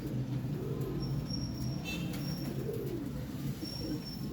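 Pigeons cooing close by in low, rolling, repeated coos over a steady low background, with faint chirps and no talking.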